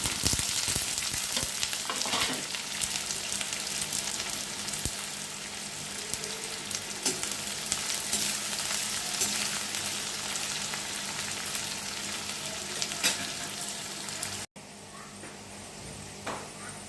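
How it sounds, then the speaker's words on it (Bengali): Onions fry in white oil in a kadai wok, a constant loud crackling sizzle with occasional stirring scrapes, close up and continuing throughout, dropping slightly in level near the end. "কড়াইয়ে সাদা তেল দিয়ে দিয়েছি। ফার্স্টে আমি পেঁয়াজটাকে ভেজে উঠিয়ে রাখবো।"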